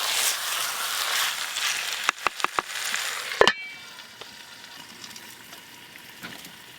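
Chicken pieces sizzle steadily in a pan while being cooked down with spices for chicken kosha. A quick run of sharp stirring clanks cuts in midway, and the sizzle then settles to a softer hiss.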